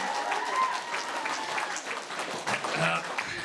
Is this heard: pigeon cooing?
no